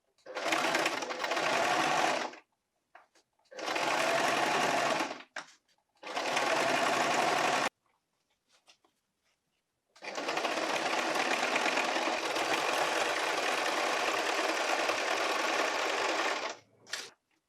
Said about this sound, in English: So this is how I'm going to sew,